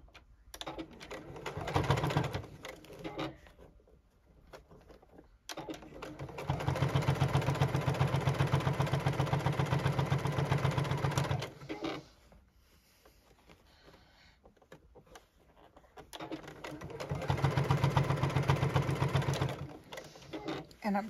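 A JUKI sewing machine stitches along the side seam of a bucket hat in three long, steady runs, with quieter handling of the fabric and a person talking between bursts.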